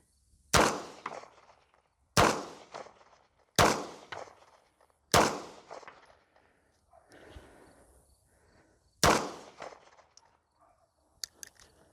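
A Polish P-64 Makarov pistol fires five loud, sharp shots at spaced intervals outdoors, each with a short decaying echo, separated by quiet handling noise and a faint breath.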